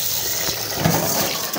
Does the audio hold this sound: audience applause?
no